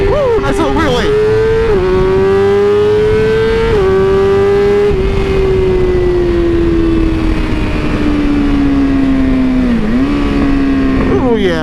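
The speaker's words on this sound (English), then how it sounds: "A little 0 to 60, 0 to whatever the crap we feel like." BMW S1000RR sports bike accelerating from 0 to 60 and on to a wheelie on a chilly morning, its engine loud and close as it climbs steadily through the gears with short dips at each shift, heard from the rider's view.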